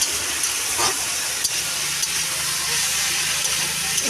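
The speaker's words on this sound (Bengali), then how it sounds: "ভালো করে নাড়াচাড়া করে নিচ্ছে" Pumpkin being stirred in a hot pan, giving a steady sizzle and hiss with a few scraping touches of the spoon throughout, close and fairly loud.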